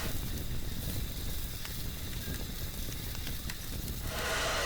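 Fire extinguisher spraying onto a fire in the game Teardown: a steady, close, broadband hiss that continues for several seconds and brightens toward the end, with no talk.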